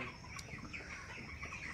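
Broiler chickens cluck faintly on a poultry farm, with soft, scattered calls against a steady background.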